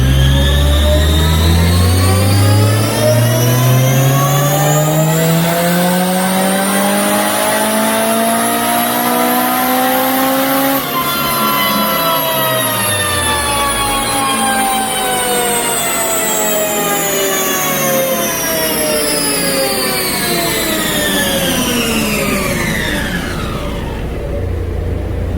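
A turbocharged Honda Civic Si on a stock engine with a PRL turbo kit roars through a full-throttle dyno pull, its loud engine note climbing steadily for many seconds before easing off, with no voices over it.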